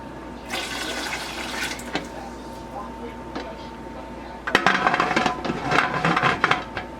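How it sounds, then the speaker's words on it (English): Water being poured into a Presto pressure canner during home canning of turkey stock, a splashing pour that starts and stops, then returns louder, with faint voice in the background. "I'm gonna add a little bit of water back into the canner"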